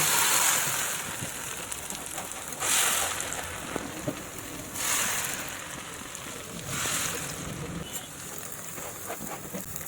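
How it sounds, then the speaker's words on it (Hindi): Ghevar batter is poured in repeated bursts into hot oil through a hole in the setting batter, each pour giving a loud rushing sizzle that fades into steady background frying. "इस छेद में से ही अब हम बैटर डालेंगे"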